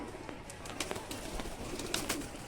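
Teddy breed pigeon cooing softly in a loft, a few low murmuring coos at a moderate distance over a faint background hiss.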